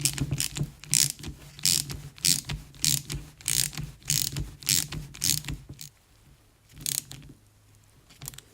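A ratchet tightens a 7 mm fitting on the Bing carburettor of a BMW R80 custom motorcycle, giving a fast run of sharp, close clicks in regular bursts for about six seconds before it slows to a few scattered clicks and quiet.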